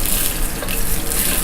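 Sausage frying in a hot pan gives a loud, continuous sizzle and hiss, close and steady throughout, with no voices.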